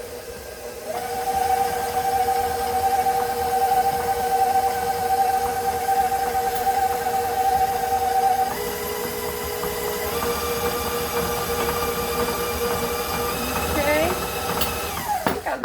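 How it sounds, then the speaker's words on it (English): An electric mixer creams unsalted butter and sugar for Christmas sugar cookies, a steady whirring motor hum whose pitch steps up as the speed changes, running continuously under a person talking. "We're going to go ahead and cream together that unsalted butter and the sugar."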